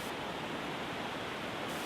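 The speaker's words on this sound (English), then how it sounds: "This is the Brook's Fall." Brooks Falls on the Brooks River in Alaska gives off a steady, unbroken rushing roar of falling water, even in loudness throughout and free of any talk.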